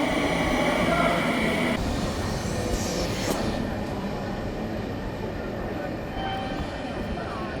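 A train rumbles along on the ride to Akihabara, Japan, a steady close rolling drone with a brief rising tone partway through and faint squeals, continuing evenly throughout.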